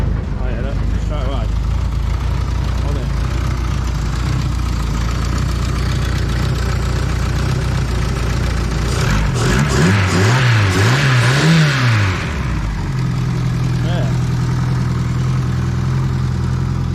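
A class 4 autograss car engine runs steadily at a loud, close idle, then revs hard in a few rising and falling bursts before settling back to idle.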